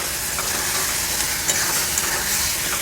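Mashed pointed gourd with prawns, turmeric, salt and sugar being stirred in a hot pan, a constant close sizzle with faint spatula scrapes and no voices.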